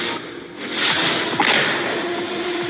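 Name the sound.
explosion blowing up a house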